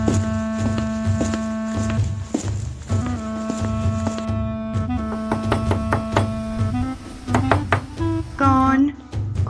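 Knocking on a house door in an audio drama sounds as a series of sharp raps over a steady musical drone, with voices talking in between.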